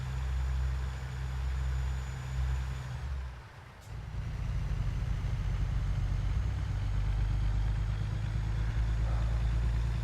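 A truck drives with a loud, steady low engine rumble that dips briefly around the middle with a short sharp transient, then continues droning evenly to the end; no one speaks.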